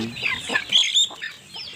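Free-range village chickens on a small farm, hens clucking and squawking close by in a short busy burst with faint background noise.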